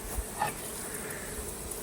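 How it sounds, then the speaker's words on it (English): Bees drone in a steady, continuous buzz, close by and unbroken, with no voices present. "Those bees have already found that new entrance."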